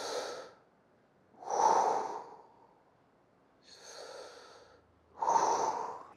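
Deep, slow breathing during a scoliosis rehabilitation side stretch: four long airy breaths alternate in and out with silent pauses between, heard close and fairly loud, with no talking.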